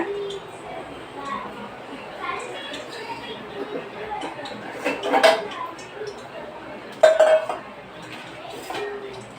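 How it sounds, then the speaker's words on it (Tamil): Bajji batter of gram flour is stirred in a kitchen bowl, with soft scraping and clinks of utensil against the dish, intermittent and close, under someone talking and children chattering in the background. "இப்போ மாவு கலக்கலாம்"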